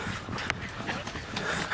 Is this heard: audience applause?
no